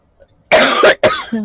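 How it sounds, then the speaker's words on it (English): A person coughing hard in a short burst of three harsh, close coughs after a brief silence, with no speech. "I'm really struggling with the coughing today."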